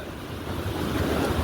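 Ocean waves wash steadily onto a beach in Mumbai, a continuous broad rush of surf mixed with wind noise, fairly close and even in loudness with no voices.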